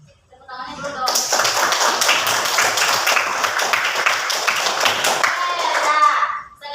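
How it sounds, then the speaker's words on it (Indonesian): A class of schoolchildren claps their hands together in a steady, dense burst lasting several seconds, close and loud, with a few young voices mixed in near the end. "Tepuk tangannya dulu dong."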